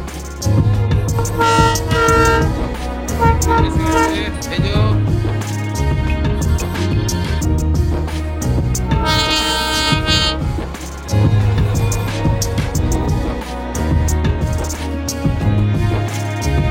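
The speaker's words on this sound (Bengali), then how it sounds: "Toy train." Darjeeling's toy train near Batasia Loop, with loud horn toots sounding twice amid a dense, noisy blend of rumble and busy surroundings, the horn calls standing out clearly.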